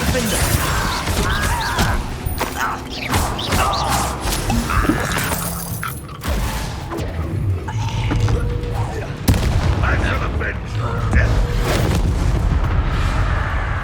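Combat in the video game Hogwarts Legacy, with a rapid succession of spell blasts, booms and shattering impacts over a busy game soundscape, with voices shouting between the hits.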